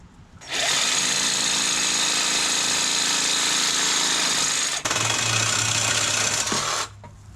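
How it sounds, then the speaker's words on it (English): Jigsaw cutting through a motorcycle exhaust pipe on a Benelli TNT135, a loud steady buzzing rasp that runs continuously for about six seconds with a brief hitch midway, then stops. "when you put your jigsaw right next to it, you see my blade is right at my mark"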